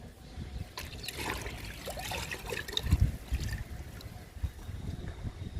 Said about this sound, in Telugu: పాలకూరకి ఇస్తున్నాను లిక్విడ్.